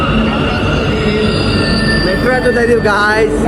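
A metro train rumbles in loudly and close, its wheels squealing in rising, wavering tones toward the end.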